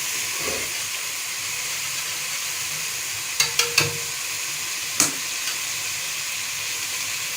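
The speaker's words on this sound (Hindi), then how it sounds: "अब हम इसमें ये दही और बेसन जो हमने मिक्स किया हुआ है वो डालते हैं।" A yogurt and gram flour mixture poured into hot masala brings a steady, even hiss of sizzling and steam, with a few sharp clicks of a utensil against the pan partway through.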